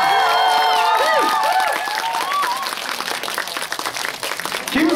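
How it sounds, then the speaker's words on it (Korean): Crowd clapping and cheering at a stage greeting for the film A Hard Day, with whoops and shouts rising over steady applause and an announcer's amplified voice partly overlapping. "큰 박수 부탁드립니다"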